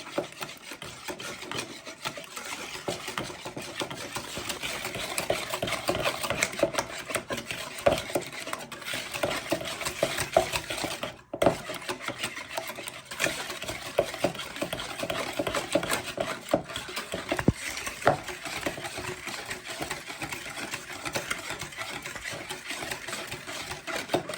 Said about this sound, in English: So you just want to start giving this a good stir.